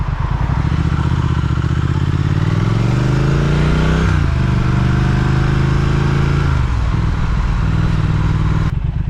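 A Triumph Speed Twin motorcycle engine runs loud and steady while riding, rising in pitch as it accelerates, dropping at a gear change, then climbing again before easing off near the end, with heavy wind rumble underneath.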